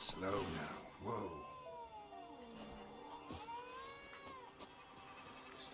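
A cat in The Witcher 3 gives several drawn-out, wavering meows at a quiet level, with brief speech-like sounds near the start.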